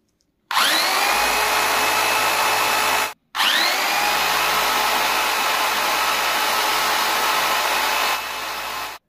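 A drill machine turning at 2600 rpm spins a 220V motor-generator, producing a loud, steady high-pitched whine that cuts out briefly near the three-second mark, then restarts and runs on continuously.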